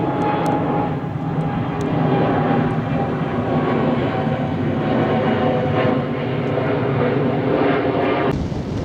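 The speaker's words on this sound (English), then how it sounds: "you can clearly hear behind me what I mean about jet noise" A jet aircraft passes overhead above countryside on a walk near Tring, its loud, steady roar filling the whole stretch without letting up, with no voices over it.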